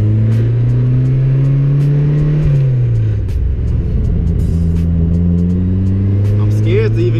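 A turbocharged Mazda Miata with 420cc injectors runs at a steady idle that had been stalling before, its pitch dipping briefly partway through, close and loud, with people talking nearby.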